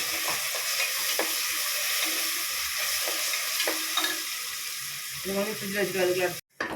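Ginger garlic paste sizzles and fries steadily in a hot pan, with occasional stirring scrapes and a brief clatter near the end.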